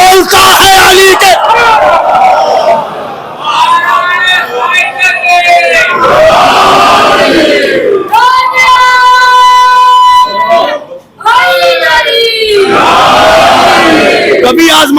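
A packed majlis crowd roars religious slogans in loud, rhythmic unison, the chanted calls rising and falling in repeated waves with brief pauses between them.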